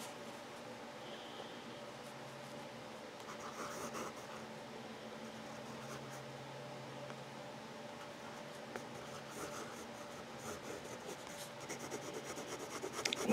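A fountain pen nib wet-tests chocolate ink on paper, a faint, steady scratchy rustle of writing strokes close up, with no talk.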